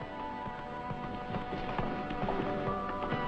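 A horse's hooves clip-clopping in a steady trotting rhythm, close and prominent, with music or other film sound underneath in a Mexican film scene.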